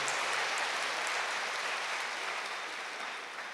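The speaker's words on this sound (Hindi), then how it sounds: "ताली बजाओ जरा" Audience applause at a spiritual gathering, a dense, steady wash of many hands clapping from a crowd that tapers off slightly toward the end, with no voices over it.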